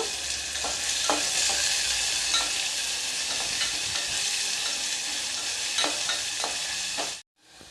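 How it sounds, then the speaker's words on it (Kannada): Onions fry in a pan for Udupi-style sambar, a constant close sizzle broken by periodic scraping strokes of a stirring spoon, cutting off abruptly at the end. "ಈರುಳ್ಳಿ ಕಲರ್ ಚೇಂಜ್ ಆಗಬೇಕು ಗೋಲ್ಡನ್ ಕಲರ್ ಆಗಬೇಕು ಅಲ್ಲಿವರೆಗೂ ನಾವು ಇದನ್ನು ಫ್ರೈ ಮಾಡ್ಕೊಳ್ಳೋಣ"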